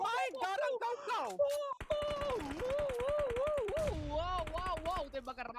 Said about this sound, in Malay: Wow, tembakan rambang daripada Suns.